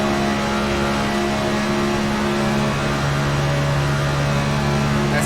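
A NASCAR Next Gen race car engine drones loud and steady at Talladega in the iRacing sim, a sustained high-rpm roar with stable tonal harmonics, flat out with no shifts and no talk.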